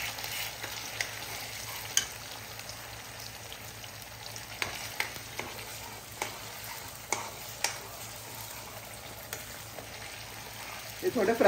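Mustard seeds fry in a hot pan for Goan sweet mango chutney, giving a soft steady sizzle broken by sharp scattered pops and ticks that grow busier near the end, close and fairly quiet.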